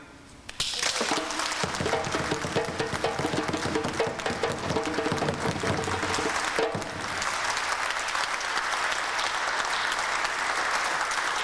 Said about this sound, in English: Give a round of applause and remain standing.